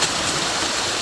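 Water pours steadily out of a pond overflow pipe, a close, continuous rushing splash like a small waterfall with no breaks or voices.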